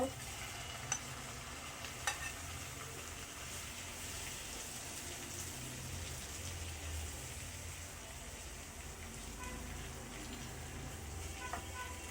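Steady, crackling sizzle of prawns frying in hot oil, continuous throughout with a few small pops and stirring scrapes.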